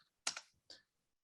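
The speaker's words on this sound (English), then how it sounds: "So I will start by typing in ping" A few quick keystrokes on a computer keyboard, typing a ping command: two close taps followed by one more, crisp and near, in a quiet room.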